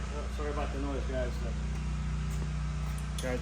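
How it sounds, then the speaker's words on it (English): Lawn mowers make a loud, steady engine drone throughout, with a voice speaking briefly in the foreground at the start and near the end. "The guys are here mowing lawns."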